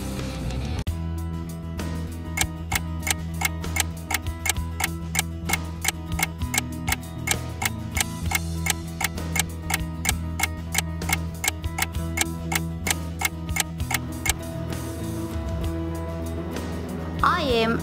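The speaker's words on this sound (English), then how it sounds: "I am an alarm clock." Alarm clock ticking in a steady, even rhythm of sharp clicks, close and clear over a low musical background.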